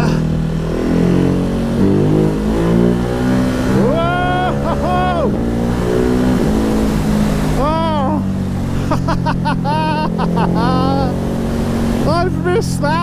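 A Ducati Hypermotard 950 SP motorcycle engine revs hard and loud on a wet road, pitch climbing and falling repeatedly through wheelies over crests, with steady wind roar throughout and a person talking over it.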